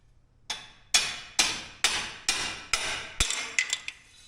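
A hammer taps an axle part out in a shop, about eight sharp metallic strikes in a steady rhythm, close and clear, ending in a few quicker light taps.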